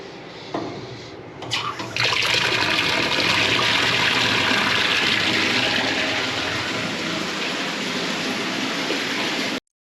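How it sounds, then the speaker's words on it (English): A large commercial sink drains in a loud, continuous rush of water that surges suddenly after a brief quiet start, with the sink draining slowly toward a grease trap. "That's a lot of water in that sink."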